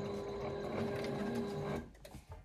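A sewing machine runs steadily as it stitches the shoulder seams of a tapestry hoodie, a loud continuous mechanical hum that stops near the end, leaving quieter handling noise.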